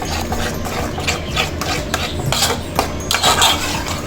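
Egg podimas being stirred in a pan, with steady scraping and clattering of the spoon against the metal and a few louder knocks.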